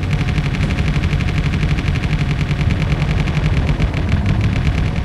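Rapid automatic gunfire from a player's guns on a small-grid ship in a space-combat video game, a dense continuous rattle of shots running loud and steady throughout with an engine hum underneath.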